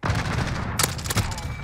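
Rapid bursts of P90 submachine gun fire in Modern Warfare, a dense run of sharp cracks with a louder cluster of shots partway through, set against busy game noise.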